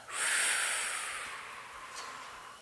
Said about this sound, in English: I want you to just do a real good exhale